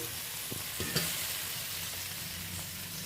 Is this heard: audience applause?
no